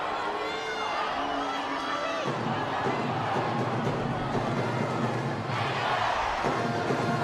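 A large football crowd at a women's international friendly between England and Australia cheers and roars continuously, a dense wash of voices swelling and surging throughout with no single speaker standing out.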